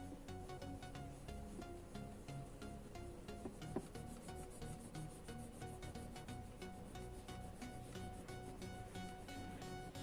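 Nutmeg is rubbed back and forth on a marble piece to make a paste for a home cold remedy. A steady, close, gritty scraping continues unbroken throughout, with no talking.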